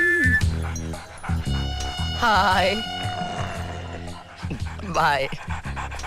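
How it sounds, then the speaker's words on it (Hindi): A dog whimpering and panting close by, with whiny yelping cries in two bursts, heard under and between loud comic dialogue from someone speaking Hindi. "कुत्ते जी,"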